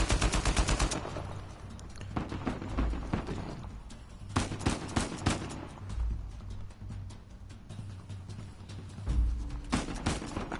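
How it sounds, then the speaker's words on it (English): Bursts of rapid automatic gunfire in the action game Uncharted 4, loud crackling volleys at the start, around four seconds and near nine seconds, with heavier thumps and a steady low hum between them. "who's shooting at me?"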